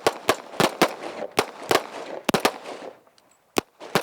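Handgun shots fired in rapid succession during tactical pistol training, about a dozen sharp, loud cracks spaced unevenly, some in quick pairs, with a short pause near the end before two final shots.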